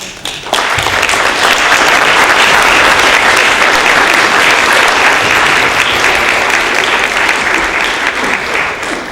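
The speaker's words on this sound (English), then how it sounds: "both candidates deserve a large round of applause" A large round of applause for both candidates at the close of a candidates debate, loud, dense clapping that starts abruptly and holds steady for several seconds, filling the room with little else heard.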